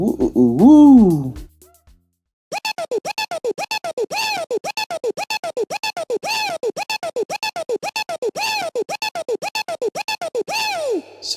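A gated amapiano chant vocal effect made in FL Studio repeats as a rapid, even stutter of short "woo" syllables. A brief sung or spoken bit comes first, followed by a short gap.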